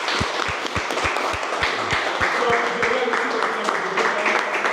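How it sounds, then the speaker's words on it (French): A crowd applauds the winner of a basketball contest featuring Belgian first-division players, with a few sharp, distinct claps near the start giving way to dense, sustained clapping, and a voice murmuring faintly underneath. "On peut encore applaudir."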